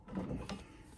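A sewing machine runs a quick stitch across the bottom of the pockets on a bifold leather money clip wallet: a brief, close mechanical whirring and clatter lasting about a second.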